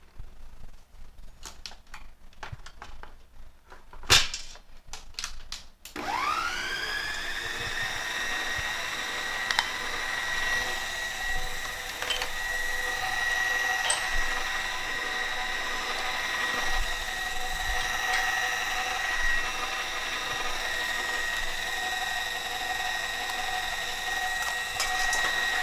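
An electric mixer whirs steadily on low speed through brownie batter made from a boxed mix with vegetable oil, starting after a few seconds of clatter and running on as a continuous close hum.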